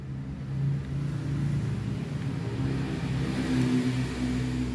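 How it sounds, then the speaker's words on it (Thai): A car engine hums and rumbles nearby, a steady low drone that swells slightly, with no voices. "เสียงรถดังไปหน่อย"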